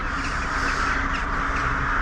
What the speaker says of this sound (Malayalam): കാക്കകളുടെ ഏതാണ്ട് മീറ്റിംഗ് ആണെന്ന് കേട്ടോ ഇത് കാക്കയുടെ കുടുംബശ്രീ ആണോ എന്നൊരു സംശയമുണ്ട്